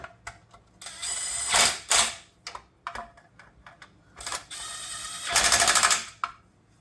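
A ratchet wrench clicks in quick uneven bursts while tightening a bolt on a Cuda car, close and fairly loud, with short pauses between strokes.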